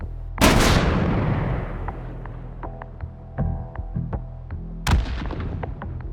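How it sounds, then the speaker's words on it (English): Distant explosions in the VR game H3VR: a heavy boom erupts and rumbles away, followed by scattered distant thuds and cracks, then another sharp blast near the end. "distant aspect sound for explosions"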